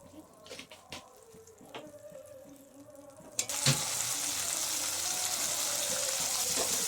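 Coriander powder and spices hit hot oil in a pan for a mutton curry made without onion or garlic, bursting into a loud, steady sizzle that carries on unbroken after a few quiet clinks and stirring sounds.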